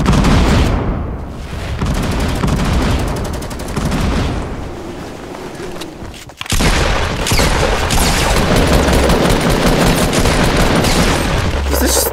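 Dense, continuous gunfire in Fortnite, rapid loud shots and booms packed close together, with a brief break near the middle before the firing resumes.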